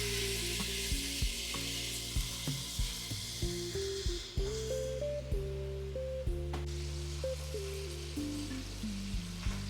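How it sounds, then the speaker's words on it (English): Kielbasa in olive oil in a hot skillet sends up a soft, continuous sizzle and crackle, half-buried under melodic background music with a steady plucked beat. "I'm gonna add the kielbasa into the skillet"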